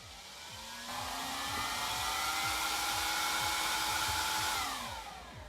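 Cooling fans of a Genius GTC8 machine whir up to a loud, rising rush with a high whine, hold steady for several seconds, then wind down.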